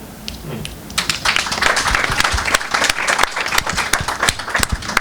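An audience claps and applauds after a poetry slam performance at a literature festival, a dense patter of hands building after a quiet first second and staying loud and close to the end.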